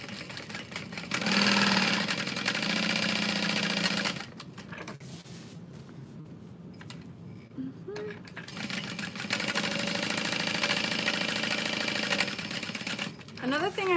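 A sewing machine stitches a custom backpack, running in long, loud, steady motor bursts with a short pause between runs and faint background sounds.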